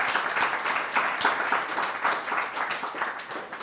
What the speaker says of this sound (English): a big applause to our panel